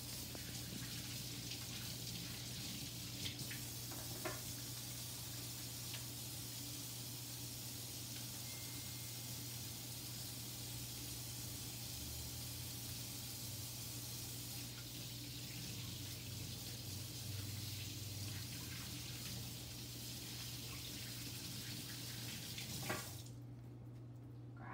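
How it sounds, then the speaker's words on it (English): Steady running tap water while washing hands at a sink, a continuous hiss with faint splashes throughout, nearby and moderate in level, no voices, cutting off near the end. "I'm going to start by washing my hands"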